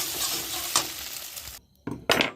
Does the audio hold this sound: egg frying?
yes